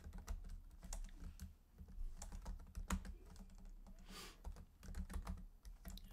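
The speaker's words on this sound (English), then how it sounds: "Sometimes it sounds like I'm typing a book" Rapid, uneven clacking of keys on a computer keyboard, close and continuous, with no voices.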